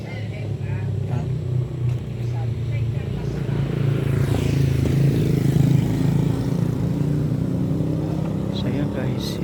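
A motorcycle engine runs steadily with a low rumbling drone throughout, fairly loud and constant on a ride between Tiwi, Albay and Partido Riviera, Camarines Sur, with faint traffic-like noise around it.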